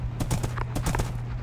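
A horse in the Minecraft video game makes a quick run of hollow clip-clop hoofbeats, close and fairly loud, in two short bursts.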